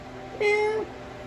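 A cat gives a single drawn-out meow, clear and close, over a faint steady room hum.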